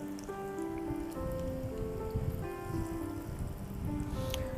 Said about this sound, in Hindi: और इस बार इन्हें पूरा कुक होने तक, करारा होने तक फ्राई करना है।